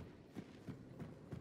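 Faint, rhythmic hoofbeats of a galloping horse in the video game Hunt: Showdown, about four thuds in quick succession, quiet and somewhat distant.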